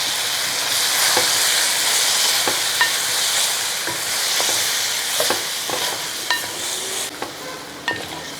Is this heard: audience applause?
no